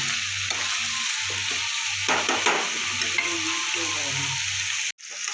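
Continuous sizzling of potatoes frying in a pan, with stirring scrapes now and then and a short break near the end.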